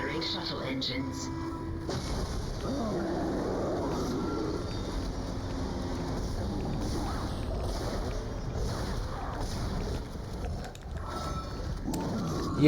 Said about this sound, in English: Test firing shuttle engines.